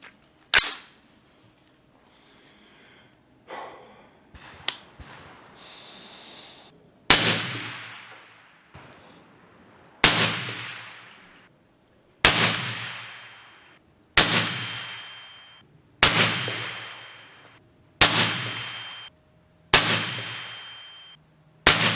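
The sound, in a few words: 10-round group of rifle shots, 300 Blackout 6.5-inch barrel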